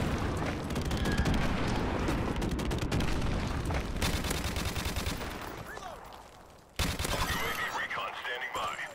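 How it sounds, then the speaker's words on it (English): Gunfire in Modern Warfare Remastered on a beach map: dense, rapid automatic bursts, loud and continuous, easing off briefly before another loud burst near the end, with game noise and a voice talking over it. "This gun is so good."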